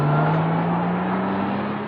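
A 1995 Aston Martin DB7 drives with a smooth, steady engine hum, its tone rising slightly in pitch as it pulls along, close and continuous with no talk.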